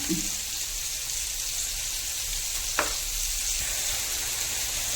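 Fish curry simmering in a pot gives a steady, even bubbling hiss that runs throughout, with one brief sharp click partway and a faint knock at the start.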